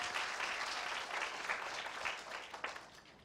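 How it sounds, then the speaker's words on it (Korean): Audience at a summer camp talk concert clapping steadily for a few seconds, a dense even applause that thins slightly toward the end, with no voices over it. "우리 보미 리더님께 큰 박수 주세요."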